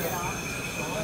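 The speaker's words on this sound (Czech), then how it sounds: "Tady to ty vlaky mrskají" Trains rush past on a mountain railway between Andermatt and St. Moritz, a brief, loud, steady rolling roar with metallic rail noise filling the whole moment.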